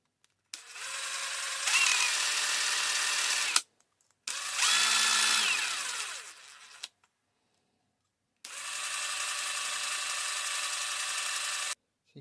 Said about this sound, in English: I'm only drilling one end of each of these parts